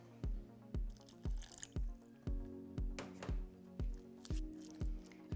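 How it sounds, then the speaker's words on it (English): Water drips into gluten-free fritter batter in a bowl: evenly spaced, soft, liquid plops, roughly two per second, close and quiet, with no talking. "And you just need a touch of water"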